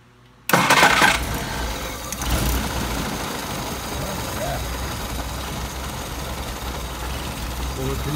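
Engine on a warm restart and stumble test cranks and catches abruptly, then settles into a steady, fairly loud idle that runs on for several seconds with no voices over it.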